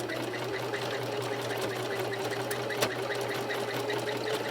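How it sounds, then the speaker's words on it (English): A sewing machine runs a steady, continuous stitch across a doll's jean mini pencil skirt, holding the end in place less than a quarter inch from the edge, its motor hum close and even with no talking. "I'm just going to run a quick little stitch across here just to hold this in place."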